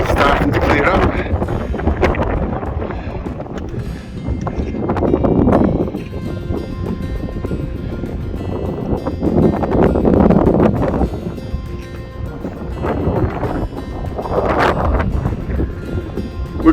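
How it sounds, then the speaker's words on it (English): Strong wind buffeting the microphone on a Scottish mountain summit, Ben More and Stob Binnein, a loud continuous roar that swells and fades in gusts, with a voice speaking beneath it. "you can hear it's very windy, which is making it very cold"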